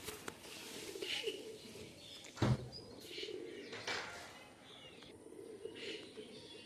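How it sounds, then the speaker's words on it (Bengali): Khulna Machhiya pigeons, a pair of pure-blood breeding birds, coo softly amid faint background chirps, with a brief sharper burst partway through. "এটা হচ্ছে আমাদের খুলনার মাছিয়া কবুতর"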